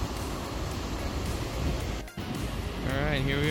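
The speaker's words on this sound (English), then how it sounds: "Getting some spray from the waterfall." Gullfoss waterfall in Iceland roars as a broad, continuous rush of water close by, with wind buffeting the microphone and a voice speaking briefly near the end.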